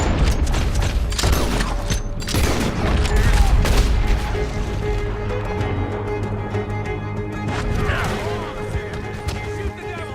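Gunfire and galloping horses in a Red Dead Redemption 2 shootout on horseback, with a dense, continuous clatter of shots, bangs and hoofbeats mixed under shouted voices and loud game music throughout.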